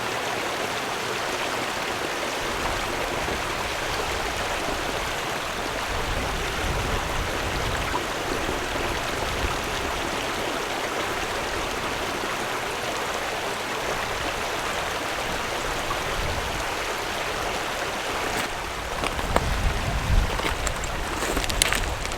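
Water from a Platypus gravity filter pours steadily into a larger container at a trekking campsite, a continuous close splashing rush that holds evenly for about twenty seconds, with a few louder bumps near the end.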